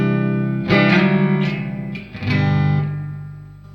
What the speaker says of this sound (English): You can go crazy amounts of reverb by using that blend. This is the blend fully on.